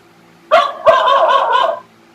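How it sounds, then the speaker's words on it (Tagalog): A dog barks loudly and close by: one sharp bark followed at once by a longer, drawn-out, wavering bark, with near silence before and after. "May aso po. May aso pa."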